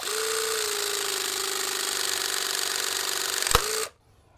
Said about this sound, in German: startet dann den Pressvorgang einfach, indem man hier unten das Werkzeug einschaltet